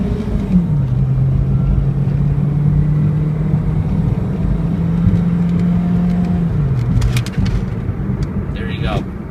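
A 2003 Toyota Matrix XR engine runs at a steady, close idle with one gentle rise in pitch and a drop back, a continuous low hum with a few light clicks near the end.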